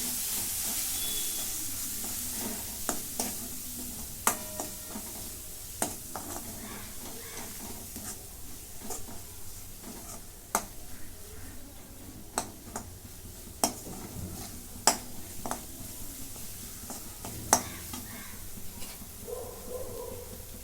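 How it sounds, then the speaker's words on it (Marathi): Spice powders of coriander, cumin and red chilli sautéed in a pan for egg curry, with soft scraping stirs and occasional sharp spoon clicks against the pan over a faint steady sizzle. "आता हे सगळं परतून घेते मसाले"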